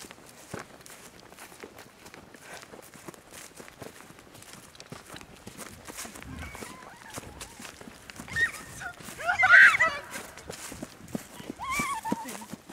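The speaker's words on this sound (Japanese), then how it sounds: "さっきの足音がどんどん近づいてきてるんです" Footsteps approach at an abandoned site at night. A run of irregular steps and scuffs grows louder and closer over the span, peaking near the end.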